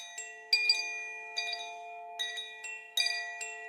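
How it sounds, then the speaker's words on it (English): Meditation chimes ring out in a series of clear metallic strikes, about five or six spaced across a few seconds, each tone sustaining and decaying softly with no talking over them. "allowing the chimes to bring you back"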